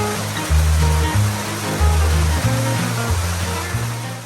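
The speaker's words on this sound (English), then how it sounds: "Dark Hollow Falls isn't one of our favorite waterfalls, but I understand why so many people visit every year." Dark Hollow Falls in Shenandoah National Park, a popular waterfall off Skyline Drive, gives a steady broadband rush of falling water that stays close and constant with no one talking.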